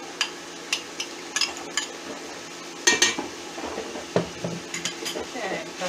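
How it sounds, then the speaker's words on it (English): Peppers go into a pot of homemade chili and get stirred, bringing sharp spoon clinks and scrapes against the pot in irregular bursts over a faint sizzle, close and fairly loud. "Next, I'm putting my peppers in here."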